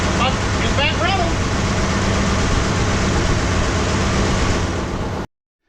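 A 1958 Dodge Coronet's 383 V8 with a dual four-barrel carburetor setup runs steadily at idle, a continuous low rumble holding level for about five seconds before cutting off abruptly.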